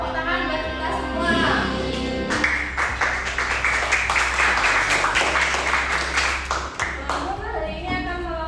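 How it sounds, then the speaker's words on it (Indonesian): A classroom group claps steadily for several seconds, a bright even patter over a low hum, with voices before and after. "tepuk tangan buat kita semua"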